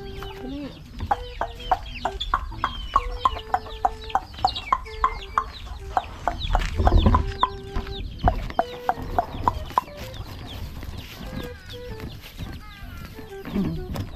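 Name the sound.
chicken clucking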